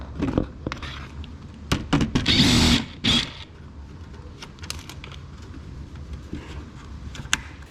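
A power drill fitted with a 90-degree angle adapter, used while installing a front splitter on a C7 Corvette Z06, whirs in a short burst of about a second, set among scattered knocks and clicks.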